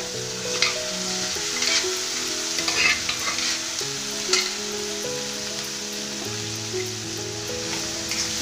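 Cooked chana dal and garlic being stirred and fried, likely in a pressure cooker, with a steady close sizzle and scattered scraping stirs throughout, over faint tonal music in the background.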